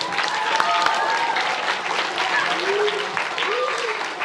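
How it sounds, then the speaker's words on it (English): Applause from an audience at a school sports team's end-of-season awards ceremony, a steady, dense wash of clapping filling the room, with voices murmuring beneath it. "let's give them one more round of applause"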